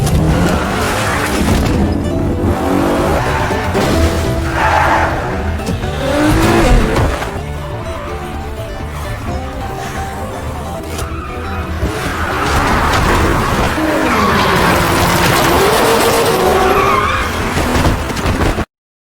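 Car drifting during a zombie-outbreak chase in the film Train to Busan Peninsula, loud sustained tire squeal and skidding over revving engine noise, swelling and fading in long waves, close and without speech.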